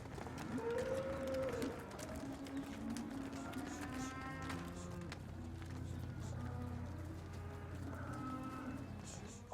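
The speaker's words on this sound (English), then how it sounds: "The lorry has been weighed and the cattle are ready to be offloaded for the last time." Cattle low from inside a shed on a farm outside Verona, Italy, with several long, drawn-out moos that overlap and trail off, close and clear, over faint bird chirps.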